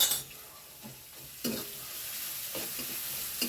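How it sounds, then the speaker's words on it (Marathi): Onion frying with salt in a pan, a steady close sizzle with stirring scrapes and a few sharper clatters of the spoon against the pan. "आता कांदा चांगला लालसर होऊ देऊ त्यामध्ये मीठ टाकते मी"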